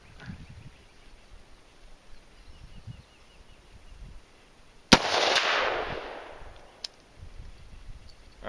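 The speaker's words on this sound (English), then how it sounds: "round one fired just fine" A single loud, sharp shot from a firearm firing its first hand-reloaded round cracks out near the middle, followed by a fading rumble, with quiet outdoor background and a small click later on.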